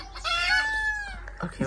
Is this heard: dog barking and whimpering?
no